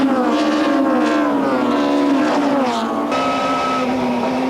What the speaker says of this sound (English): The BP Nissans are very quick in a straight line, and de Villiers is starting to put pressure